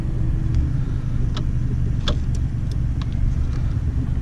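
A Honda PCX scooter sits running at idle, a close, steady low engine hum with faint clicks and rattles over it, no voices.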